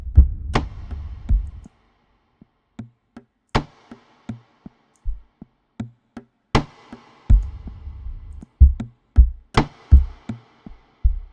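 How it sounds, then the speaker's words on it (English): A dry, punchy kick drum thumps in a syncopated pattern with brief gaps, joined by lighter clicky hits, with no voices. "all of a sudden I hear the kick drum"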